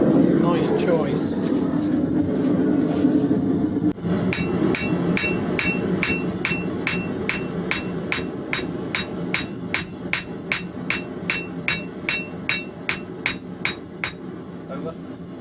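Repeated hammer blows flatten a metal knife blade, first mixed with busy background noise, then settling into a steady, evenly spaced series of sharp ringing strikes that gradually soften.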